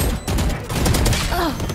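Bursts of rapid gunfire crackle through a multiplayer video game match, a short flurry of shots mixed with game effects.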